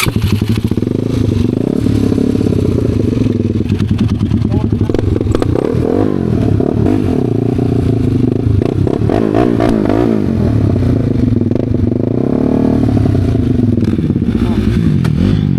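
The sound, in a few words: motorcycle being started and revved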